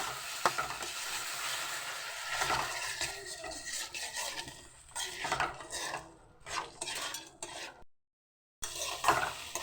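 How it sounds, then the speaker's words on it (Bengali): Washed red lentils and rice being fried and stirred into a cooked spice paste in a pan, loud close sizzling broken by scraping utensil strokes and pot clatter, with a brief pause near the end, no voices. "এবার ওর মধ্যে আমি এই যে ধুয়ে রাখা মসুর ডাল আর চালটা দিয়ে দেবো, দিয়ে একটু কষিয়ে নেব"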